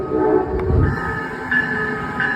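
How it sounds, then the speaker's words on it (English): An Amtrak passenger train passes close by at New Carrollton station, with a rumbling rail roar and a steady horn tone sounding twice over the noise. "Here is an Amtrak train."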